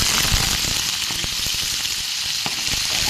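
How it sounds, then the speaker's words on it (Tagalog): Milkfish (bangus) fries in a pan with loud, steady sizzling and scattered pops and crackles from spattering oil, close up and without talk. "gusto ko ipiprito ko muna yung aking bangus"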